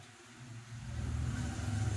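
A noisy motorcycle engine, run on low-quality oil, starts faint and then swells into a steady, rough, low running drone that stays moderately close.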